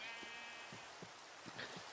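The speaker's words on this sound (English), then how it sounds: "I'm going to take this sheep" Sheep in Minecraft bleat in a series of short, faint, evenly spaced calls, about five in under two seconds, over a quiet background hum.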